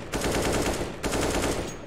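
Two rapid bursts of automatic gunfire in a video game, each about a second long, loud and close, with the second burst starting right after the first ends.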